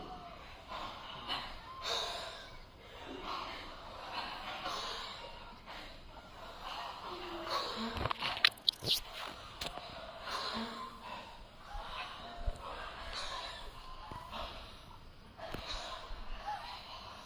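Forceful breath expulsions during a yogic breathing kriya in a large group session, faint huffs and snorts repeating irregularly with a louder cluster of sharp bursts in the middle, heard against quiet room ambience.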